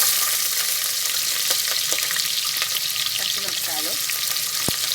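Onions frying in hot oil for a Telangana gongura lamb curry, a steady dense sizzle with soft stirring clicks and a sharp scrape near the end, close and continuous without talk.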